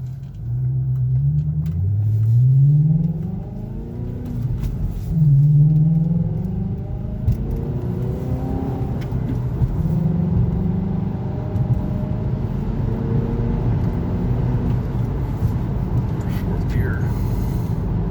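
A 2003 VW Passat W8 4Motion accelerates through its gears, the engine rumble rising and dropping with each shift, heard from inside the car under someone talking throughout.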